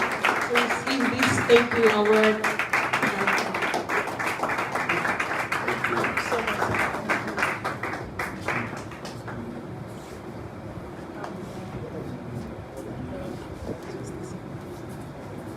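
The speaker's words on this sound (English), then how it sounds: "Please help us give a round of applause to Dr. Sheun Fakorede as he steps forward to receive this" A crowd claps in a dense round of applause at a youth empowerment award ceremony, loud for about nine seconds before thinning out, with a speaker's voice talking over it throughout.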